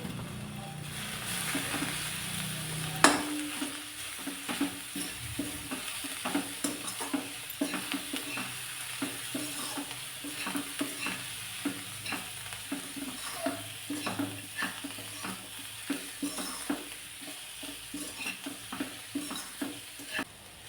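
Chopped colocasia (taro) leaves with turmeric are sautéed and stirred in a pan, a steady sizzle broken by many sharp spatula scrapes and taps that repeat throughout, close and fairly loud with no talking.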